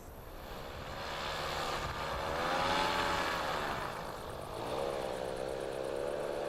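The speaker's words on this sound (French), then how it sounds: "Alain Arnoux a été autorisé à utiliser un parapente motorisé pour profiter de la vue d'ensemble du site" A powered paraglider's small propeller engine drones steadily overhead, its pitch rising and falling slightly as it passes at a moderate distance.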